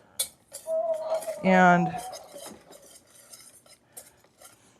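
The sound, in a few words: whisking and mashing ingredients in a bowl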